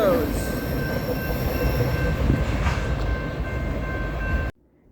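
A CSX freight train rolls steadily past a road crossing, with a loud continuous rumble of wagons, a steady high wheel squeal and a brief clank. The sound cuts off abruptly near the end.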